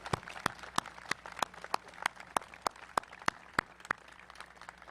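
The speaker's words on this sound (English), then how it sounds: "If we could, a round of applause for that" Faint, evenly spaced hand claps for a Vietnam veteran at a Veterans Day event, a slow, steady beat of single sharp claps over a quiet hum that fades out near the end.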